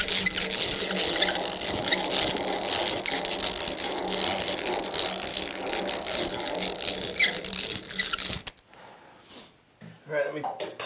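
A drill bores vertically through a glued veneer bent-lamination clock blank held in a vise, a steady loud mechanical whir running continuously for about eight seconds before cutting off into quiet handling noise.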